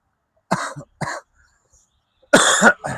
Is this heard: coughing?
yes